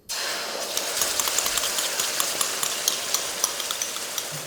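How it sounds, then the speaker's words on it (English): Sweet and sour sauce poured into a smoking hot wok with oil and prawns, boiling vigorously with a dense, steady sizzle and rapid crackling pops, close and continuous. "I want the sauce to vigorously boil and kind of skip across the wok and just wrap around the prawns very quickly"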